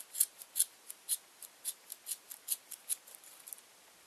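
Scissors snip through yarn strands while trimming a puffy pom-pom bunny, about a dozen crisp, close cuts in a steady, slightly uneven rhythm with no talking.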